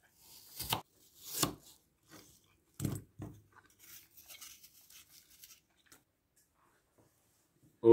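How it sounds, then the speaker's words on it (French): A knife cuts apples into thin quarters for an apple tart, making a few distinct close crunching chops spaced apart, then softer rustling and near silence. "je vais découper des petits quartiers comme ceci pour qu'ils fassent 4 mm d'épaisseur"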